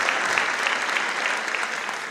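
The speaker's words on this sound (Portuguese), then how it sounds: "Palmas para vocês." Clapping from a seated audience at a justice and citizenship training meeting in Campinas continues as a dense, even roar of many hands, close and loud throughout with no voices breaking through.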